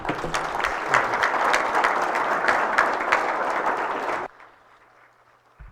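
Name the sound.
audience applause for the Charles Schwab team guests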